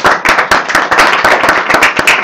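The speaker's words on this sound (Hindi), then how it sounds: "जोरदार तालियां हो जाए." A classroom group claps together loudly and enthusiastically on cue, fast rhythmic hand claps packed densely and evenly across the whole stretch.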